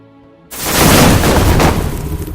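After a brief quiet moment, a fireworks spell in Age of Wonders III erupts in a loud, sudden boom, followed by a roaring, crackling burst that lingers for a couple of seconds.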